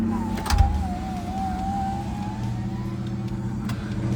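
The electric motor of a 1970s convertible top whines steadily while raising the roof, a thin drawn-out tone over a low idling car rumble with a brief thump near the start.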